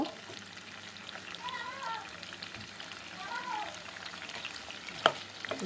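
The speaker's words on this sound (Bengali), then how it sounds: "সেগুলো একটু এভাবে বেজে নিব" Pieces of food fry in hot oil in a pan during home cooking before meat goes in, giving a steady close sizzle with a sharp utensil clink near the end.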